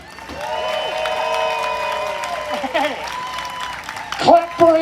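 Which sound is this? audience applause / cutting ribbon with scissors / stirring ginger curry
audience applause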